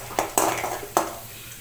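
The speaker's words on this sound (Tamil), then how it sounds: "கடலைப்பருப்பு கொஞ்சம் நல்லா வறுபடட்டும்." Chana dal roasting in a pan for a traditional South Indian chutney, stirred with a utensil that gives a few sharp metallic scrapes and clinks close up over a faint sizzle.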